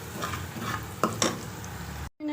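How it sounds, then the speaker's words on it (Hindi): Beef paya being fried in masala in a pot sizzles steadily while a utensil stirs, scraping and clinking against the metal twice, close and continuous before cutting off abruptly at the end. "इसमें 1 मिनट के लिए हम इसको भूनेंगे"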